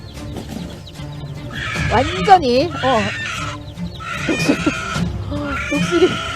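Hens clucking and squawking loudly in agitation as a hen attacks an eagle to protect her chicks, with sharp rising cries and flurries of calls, mixed with people talking over the commotion.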